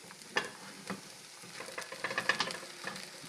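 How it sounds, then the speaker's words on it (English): Onions, peppers and mushrooms saute in a hot pan with a steady sizzle, broken by several louder bursts of frying and the scrape of stirring. "we've got our onions, peppers, and mushrooms sauteing"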